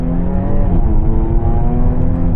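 A Jaguar F-Type fitted with a GOPedal accelerates hard in first gear with a manual gearbox and traction control off, giving a loud, close, steady engine roar that climbs in pitch throughout.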